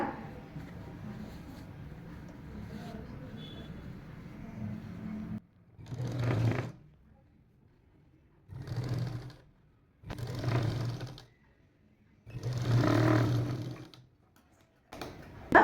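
A tailor's sewing machine stitches a princess-cut blouse front, joining a panel strip with a half-inch seam. Four separate whirring runs of stitching, each a couple of seconds long, are broken by short quiet pauses, loud and close.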